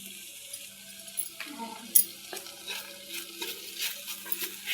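Food stir-fried in a pan with salt, a soft continuous sizzle broken by scattered scrapes and clinks of a utensil against the pan, fairly quiet and close, with no talk.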